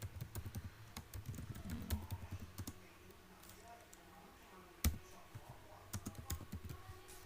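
Java code is typed on a computer keyboard in quick, irregular bursts of close key clicks, with a sharper keystroke partway through and faint room noise underneath.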